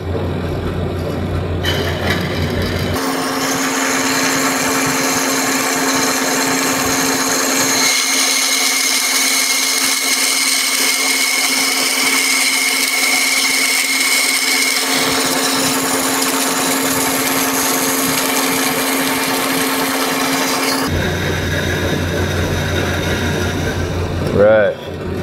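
A vertical band saw runs steadily and cuts slowly through material, giving a loud continuous whirring whine with a deeper grinding tone during the cut before the motor winds down.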